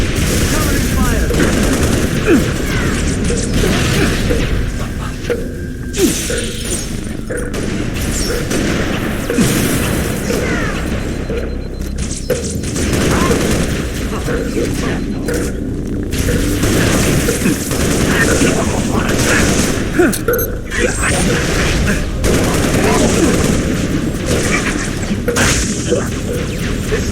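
Heavy, sustained gunfire in the PC game Halo Reach: dense bursts of automatic weapons and booming explosions crowd the whole stretch, loud and close, with shouted voices breaking through the battle.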